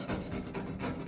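A close, quiet paint scraper scraping with a few short repeated strokes on a 1998 Whirlpool dryer, a dry rasp against a hard surface.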